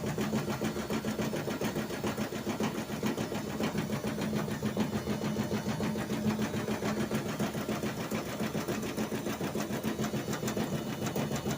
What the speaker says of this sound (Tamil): இந்த மாதிரி தான் ஃப்ரெண்ட்ஸ் டெய்லி இந்த வாஷிங் மிஷின் டான்ஸை பார்த்து பார்த்து நமக்கு அழைத்து போச்சுங்க